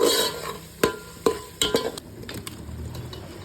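Washed chicken pieces dropped into a hot pan and stirred: a few sharp clacks and scrapes of the spoon against the pan over a soft sizzle, close and irregular, with no voices.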